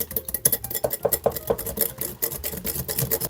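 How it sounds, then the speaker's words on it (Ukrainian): Rapid, light metallic clicking of a whisk beating egg yolks in a bowl, steady and close, with no talking. "І вінчиком добре перемішуємо"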